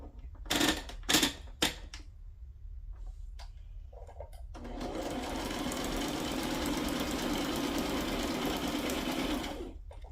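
A sewing machine stitches around paper cutouts on a handmade flip flop journal, with a few sharp clicks and handling sounds first, then a steady, close whirring run of several seconds.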